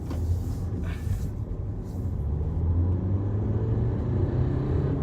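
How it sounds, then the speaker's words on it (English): A car engine pulls hard through traffic lights, a steady low rumble swelling in loudness after the first couple of seconds and holding as the vehicle accelerates, heard from inside with no talking. "excuse me a minute while I do the excessive acceleration to get through the lights"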